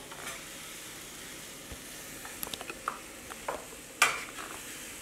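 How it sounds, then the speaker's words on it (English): Cabbage and other vegetables frying in oil, sizzling softly and steadily while being stirred, with faint scrapes and one sharper clink near the end. "We're going to stir it while it's sauteing."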